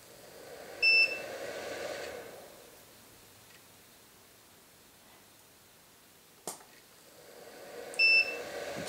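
Monolight studio flash recycling at full power from a DIY power supply: two short high electronic beeps about seven seconds apart, each following a soft rising whine, faint and close, with a brief click between them.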